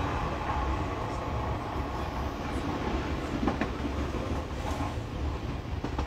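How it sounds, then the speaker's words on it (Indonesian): An underground train runs in a steady, muffled rumble with faint clatter throughout, heard from inside or near the carriage with no clear talk. "karena di mau masuk kereta, mau masuk bawah tanah"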